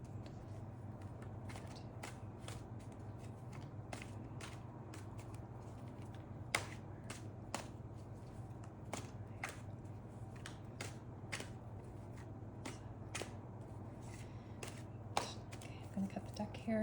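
A deck of tarot cards is shuffled by hand in a quiet room, with soft riffling and sharp clicking snaps of cards in an irregular series over a low steady hum.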